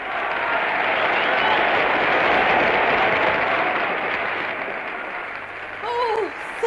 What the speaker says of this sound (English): Now if they'd only applaud like that all time.